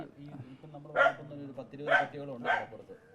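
Stray dog barking on a road at night, three short sharp barks spaced about a second apart, moderately close, with someone talking underneath.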